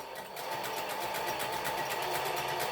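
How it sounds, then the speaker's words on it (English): Singer 20U sewing machine stitching, a fast, even mechanical whirr with rapid regular needle clatter, close and steady. "put my foot down, shorten my stitch maybe by 1 or 2 more, needle in, and away you go"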